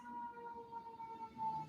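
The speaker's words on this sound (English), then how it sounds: "Apologies for the sirens" Sirens wail outside, a steady tone that rises and falls over a low background hum, heard alone at moderate distance.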